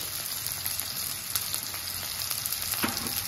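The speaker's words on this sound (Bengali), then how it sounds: "তেল গরম হয়ে গেছে, আমি এবার কুচানো পেঁয়াজটা দিয়ে দেব, কাঁচা লঙ্কা কুচি, তারপরে দিয়ে দেবো এখানে কাজু আর কিশমিশ" Chopped onion, green chilli, cashews and raisins fry in hot oil, giving a continuous, dense crackling sizzle that stays fairly even from start to finish, with no voices.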